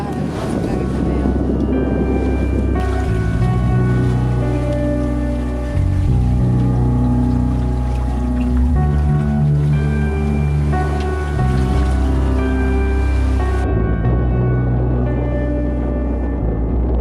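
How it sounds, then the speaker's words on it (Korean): A sailboat under sail with its motor off near Dunk Island, with a steady rush of wind and water close by and a constant low rumble running throughout. "간만에 이렇게 돛만 올리고 모터를 끄고 가니까 역시 이 맛에 세일링 한다 하는 그런 생각이 드네요."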